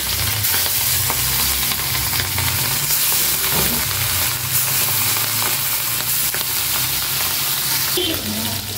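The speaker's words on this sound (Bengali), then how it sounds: "আর সরিষার তেল দিয়ে ভাজতেছি ইলিশ মাছগুলো" Hilsa fish sizzles and crackles steadily in hot mustard oil, a loud, continuous frying hiss with occasional spatters and faint stirring clinks, no talking over it.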